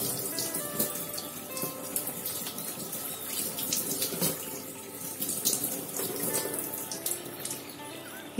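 Tap water runs steadily, gushing into a container to change the water for aquarium plants, a continuous splashing wash with small bright spatters throughout. No voices are heard.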